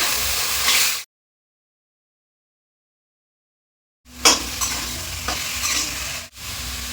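Boiled chalta fruit is stirred in hot oil with panch phoron and salt, producing a steady frying hiss and scraping close by, broken by a three-second silent gap before the sizzling resumes.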